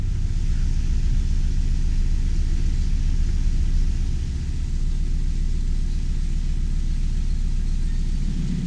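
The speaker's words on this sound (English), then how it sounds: "I'm really pleased I opted for a more powerful 42 horsepower engine" A narrowboat's 42 horsepower engine runs steadily on the Chesterfield Canal, a loud continuous low rumble that holds unbroken throughout with no voices.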